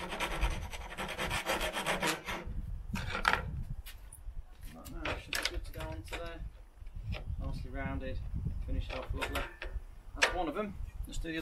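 A hand file rasps back and forth over the cut edge of a metal shelf piece for a Peugeot J9 coffee van, working off sharp edges in steady close strokes, with someone talking throughout.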